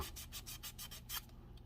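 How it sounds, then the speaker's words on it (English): Hand sanding on the body of a 1969 Dodge Charger R/T gives a faint, steady series of rasping back-and-forth strokes, about six regular passes, close up and without talk. "I'm just going to sand on that for, you know, a few minutes"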